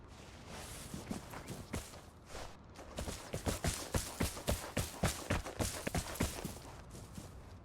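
Footsteps approaching in the video game Vigor, a quick run of crisp, evenly spaced steps that grow louder and closer partway through, with no voices.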